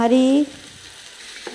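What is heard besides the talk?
green chillies and onions being stirred and fried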